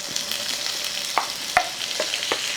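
Onions and tomatoes fry in a pan for kuska biryani, a steady sizzle broken by a few sharp scrapes and clinks of a spoon stirring, close up with no voices.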